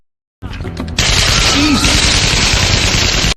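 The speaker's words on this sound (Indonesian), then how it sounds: "lalu memancing mereka dengan menembakkan senjatanya." Gunfire in an action film, a loud, dense burst of shots that merges into a continuous roaring blast lasting a few seconds, preceded by a brief rattle.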